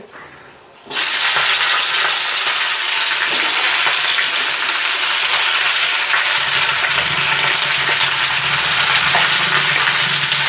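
Cut potato and Malabar spinach drop into hot oil with lentil dumplings and dried chilli. After a brief quiet, a sudden loud burst of sizzling erupts and stays as a steady crackling hiss.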